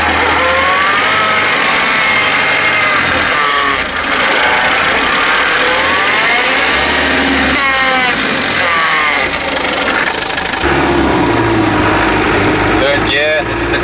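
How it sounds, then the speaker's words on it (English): Land Rover Defender 200Tdi diesel with an LT77 gearbox running in reverse, an unhealthy-sounding gear whine that rises and falls over a steady engine drone, loud and close, with someone talking over part of it. "Reverse gear doesn't sound too healthy at all."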